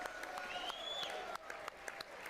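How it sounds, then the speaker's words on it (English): An audience claps during a speech by President Trump, heard as faint, distant applause with a murmuring crowd and a thin whistle-like tone drifting through it. "They're still clapping for us"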